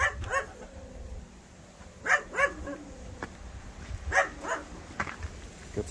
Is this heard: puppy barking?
yes